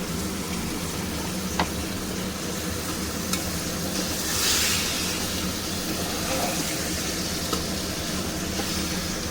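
Lote fish curry sizzles loudly in a pan while it is stirred gently, a dense, steady frying hiss with faint spoon scrapes and a brief swell of steam midway.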